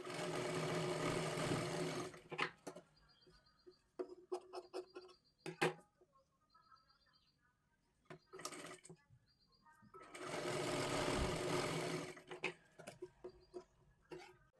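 A sewing machine stitches along a cloth edge in two long, loud, steady whirring runs, broken by a quieter stretch of clicks, taps and handling noises in between.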